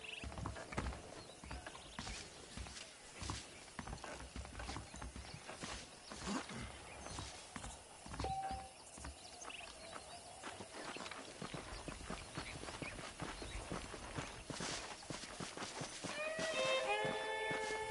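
Horse hooves clip-clopping at a steady walk in the video game Red Dead Redemption, with a snort or whinny near the end over a busy outdoor background.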